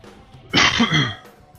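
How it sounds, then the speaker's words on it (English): A single close cough bursts out for about half a second between quiet stretches, with no speech around it. "Sorry for coughing in your ear."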